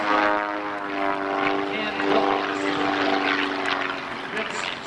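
A propeller aerobatic airplane flies a Cuban 8 maneuver, its engine droning loudly with a rich harmonic buzz that shifts pitch slightly as it loops overhead, steady and close throughout.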